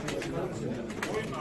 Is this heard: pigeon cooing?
yes